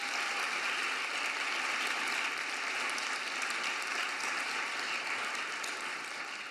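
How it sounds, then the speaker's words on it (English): Steady applause from an audience at a university speech, a dense continuous wash of clapping that holds at an even level from start to finish with no voices over it. "let's clap over that one"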